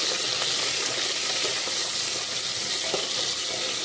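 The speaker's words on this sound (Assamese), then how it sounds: "পিঁয়াজখিনি এতিয়া অকণমান ভাজিম।" Chopped onions fry in hot oil in a pan with a little water in it, a loud, continuous close-up sizzle with faint crackles and pops and no talking.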